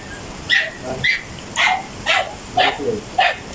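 A dog barks six times at a steady pace, fairly close and alone, each bark short and sharp.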